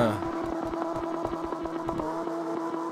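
A sports car engine in the mobile open-world street-racing game CarX Street revs hard in a fast, pulsing rhythm, loud and close, with people talking over it.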